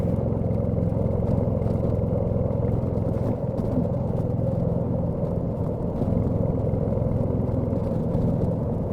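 Royal Enfield Meteor 350 motorcycle riding on a rough road surface, a steady mid-pitched engine rumble with wind and road noise, continuous and close, no voices.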